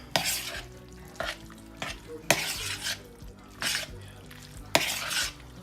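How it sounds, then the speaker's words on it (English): Rotini pasta is stirred in a cooking pot, sending out repeated scraping, clinking strokes about a second apart over a faint background, with no talk. "Rotini pasta. I'm going to add that to it. And stir it all up."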